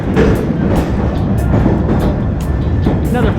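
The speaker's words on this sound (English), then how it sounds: "14 hours on a train." Steady, loud rumble inside a moving train on a long overnight ride north through Vietnam, with dense low-frequency roar, faint rhythmic clatter and occasional squeaks, continuous throughout with no talking.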